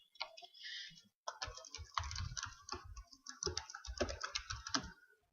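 Rapid, uneven keystrokes clatter on a computer keyboard as login credentials are entered, close and clear in a quiet room, with a short pause before the clicking resumes.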